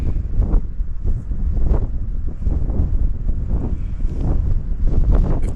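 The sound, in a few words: breezy wind on a mountain trail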